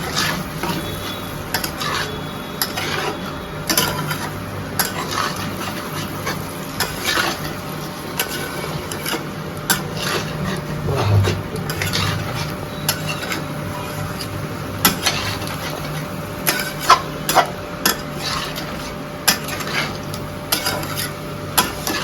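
A potato and pointed gourd curry being stirred in a pan, with a spatula scraping and clinking in a steady rhythm over a low sizzle, close and continuous.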